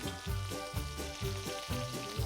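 Pork ribs sizzling and spitting in a hot pan, with soft rhythmic thumps of stirring repeating about every half second, quiet and close.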